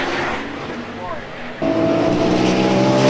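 GT race cars, including a Chevron GT3, a TVR and a Ferrari 458, roar past the line at Donington circuit, a loud sustained engine drone that jumps in pitch and volume as a car passes close, under commentary.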